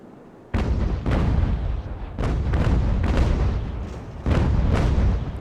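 9-pounder naval cannons firing in the age-of-sail battle game Ultimate Admiral: Age of Sail, a series of heavy booming broadsides, four or five loud blasts each trailing a long rumbling decay, close and with no talk.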